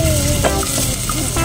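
Garlic frying in a pan while cooking a seashell dish, a loud, steady close-up sizzle with faint scraping of stirring underneath.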